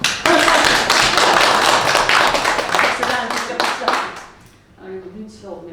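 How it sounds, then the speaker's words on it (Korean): A seated audience at a business lecture claps together in a brisk, dense burst lasting about four seconds, then fades out as a voice resumes. "박수 한번 주죠."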